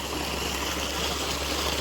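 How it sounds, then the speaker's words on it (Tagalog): A strong stream of water gushes steadily from a solar-powered pump outlet at midday, a loud continuous rushing with no voices. "Tingnan niyo po kung gaano yan kalakas yung tubig."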